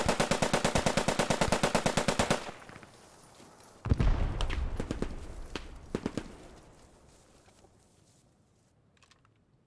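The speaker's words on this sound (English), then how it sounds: "a light machine gunner with a Bren firing to my right hand side." Bren light machine gun firing in Post Scriptum: a rapid, steady burst of close, sharp automatic shots for a couple of seconds, then scattered single reports and clatter trailing off, no talk.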